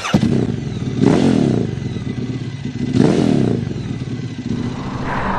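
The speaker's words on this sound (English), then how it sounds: "So hari ni aku atas motor Italjet Formula 125 Black Edition" An Italjet Formula 125 Black Edition motorcycle being ridden, its engine humming steadily and swelling into two distinct revs, with some rattling clatter throughout.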